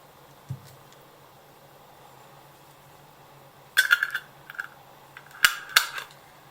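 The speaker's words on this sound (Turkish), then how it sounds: "Ve şöyle çalkalıyorum. Tuzu falan erisin, güzelce birbirine karışsın diye." A closed jar of garlic pickle in salty brine is shaken by hand: after a long near-silent stretch, a few short, sharp rattling and clattering bursts come in quick clusters, close and fairly loud.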